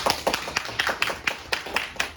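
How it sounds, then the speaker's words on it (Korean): Scattered audience clapping at an academic maritime law society conference, a steady run of sharp individual claps from a small crowd, moderately loud and close, with no talk over it. "큰 박수 한번 부탁드립니다"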